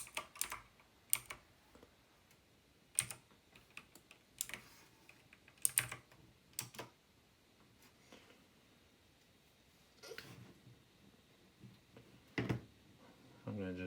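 Scattered keystrokes on a computer keyboard while setting up a Raspberry Pi 4, quiet and close, coming in irregular bursts and single taps separated by near silence.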